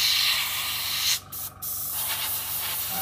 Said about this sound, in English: Drying off again with the airbrush.